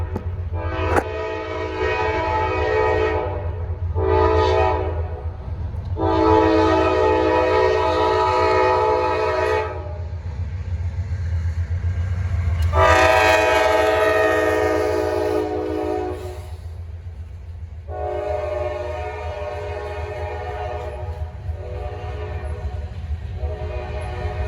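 Norfolk Southern freight train NS 1072 rolls past on track 2 with a long, loud horn sounded in several repeated blasts, some sustained, over the steady low rumble of the passing cars.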